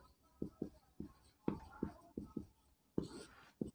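Chalk on a blackboard during a physics lecture gives a series of quiet, distinct taps and short scratching strokes in irregular rhythm, with brief scraping streaks between them and no speech.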